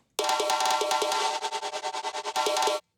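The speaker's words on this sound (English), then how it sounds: "I'm applying a much stronger stutter effect." A loud, dense electronic synth passage is chopped into rapid stuttering pulses in the middle, then surges back to a full sustained sound before stopping abruptly.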